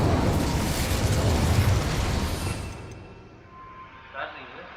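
Incendio fire spell cast in the Hogwarts Legacy video game: a loud roaring burst of flame that swells for a couple of seconds, then fades into a low rumble, with a voice briefly heard near the end.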